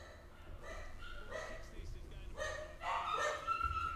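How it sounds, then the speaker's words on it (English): Dogs bark in the background, with several yips and bow-wows coming in uneven bursts, moderately near, mixed under a person talking. "the dogs are going crazy"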